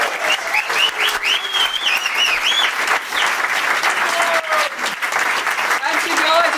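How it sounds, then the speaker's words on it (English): Loud applause from a conference audience welcoming a speaker, dense clapping with cheers and whoops rising over it, and voices calling out within the crowd. "can I have a massive round of applause for Ceylon"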